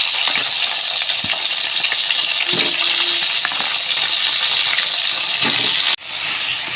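A tempering of mustard seeds and chillies fries in oil in a pan for Goan hog plum curry, giving a steady, close crackling sizzle throughout with a few faint clicks and a brief stir near the end.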